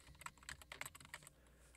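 Quick, close, quiet clicks of keys being typed on a computer keyboard, a short burst of about a dozen taps in an uneven rhythm, with no speech.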